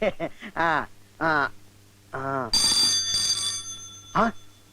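A telephone bell rings in a short burst between lines of dialogue, with people talking before and after it.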